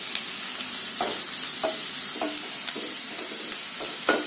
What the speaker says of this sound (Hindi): इसे भी हम थोड़ा सा सॉटे कर लेते हैं